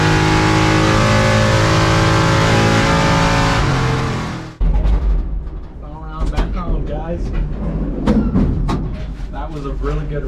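Drag race car roaring at full power down the strip, a loud sustained engine blast that cuts off abruptly, followed by clattering, crackling noise and lower rumble.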